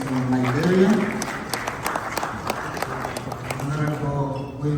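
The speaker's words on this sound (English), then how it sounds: "Ladies and gentlemen, a round of applause to the visiting ministers." An audience at a formal gathering claps for visiting ministers, a steady patter of applause that starts as a voice announces over it.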